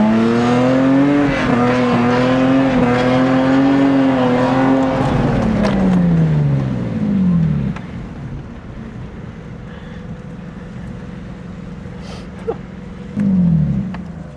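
Drift cars doing tandem donuts, engines loud and revving with rising and falling pitch and tire squeal for the first several seconds, then a quieter stretch before another brief roar near the end.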